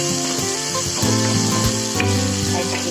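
Hot oil sizzling steadily around onion, turmeric, salt and ginger-garlic paste for a fish gravy, close and continuous, with occasional stirring knocks and no voices.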